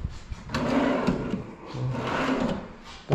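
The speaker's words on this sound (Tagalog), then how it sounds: "Mga drawer." A drawer in a modular house cabinet slides open or shut, producing two rumbling, scraping runs of about a second each with a sharp knock at the start, loud and close.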